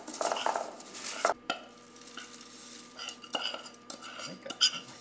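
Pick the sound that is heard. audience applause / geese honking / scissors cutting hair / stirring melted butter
stirring melted butter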